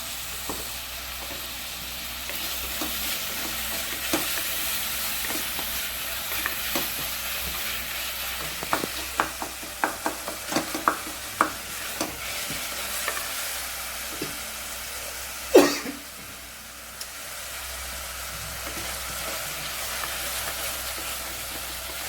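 Steady sizzling of tomatoes sautéing in a pan, with repeated scraping and stirring clicks and one sharp clatter late on.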